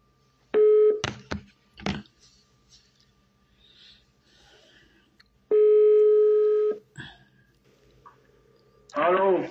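Phone call tones: two long steady ringback beeps separated by a pause, near and clear, along with short clicks and handling noises, and a voice breaking in at the very end.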